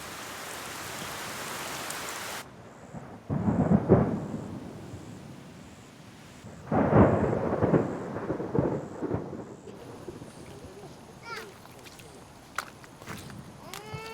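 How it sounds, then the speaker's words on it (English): A thunderstorm with torrential rain: two loud rolling thunder bursts rise and fade over a steady rain hiss, then quieter rain with scattered drips near the end. "In just a few hours, torrential rain cuts off all access."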